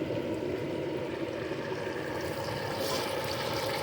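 A whole turkey deep frying in a pot of hot oil gives off a steady, dense bubbling and sizzling hiss, close and constant with no break.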